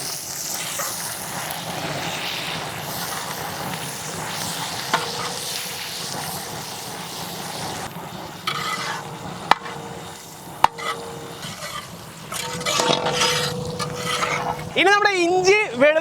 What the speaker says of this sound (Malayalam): നമ്മുടെ സവാള ഇട്ട് കൊടുത്തു കേട്ടാ.